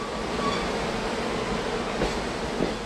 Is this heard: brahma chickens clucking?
no